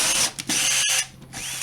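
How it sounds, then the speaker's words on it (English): A power drill driving screws into a wall bracket during drywall repair, short whirring bursts with brief pauses and no talk. "Screws in here, tighten it all up."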